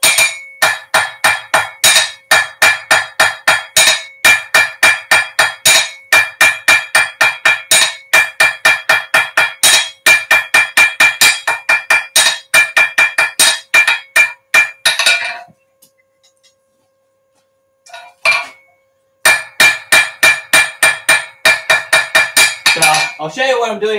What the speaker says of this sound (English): Okay, so a little bit more work now with the hammer.